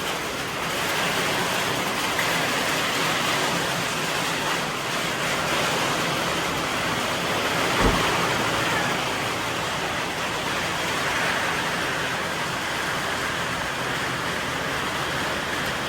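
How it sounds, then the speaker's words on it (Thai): Steady rain falling outdoors in Thailand, a dense even hiss that holds at the same level throughout with no pauses, one brief thump near the middle, and no voices. "ตอนนี้ฝน ลงมาหน่อยหนึ่ง"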